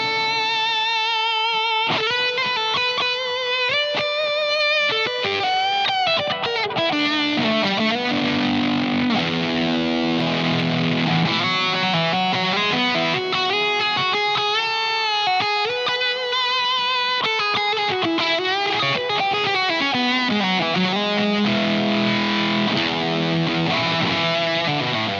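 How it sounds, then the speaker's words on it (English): Heavily distorted electric guitar through a Boss DS-2 distortion pedal playing a lead line with sustained, saturated notes and bends, loud and continuous with no talking. "So we're going to kick on a Boss DS2."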